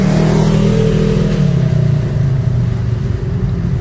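A car engine revs loudly while the car drifts, a steady close roar that eases off slightly over a few seconds.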